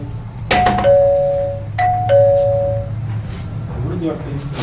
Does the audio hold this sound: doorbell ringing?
yes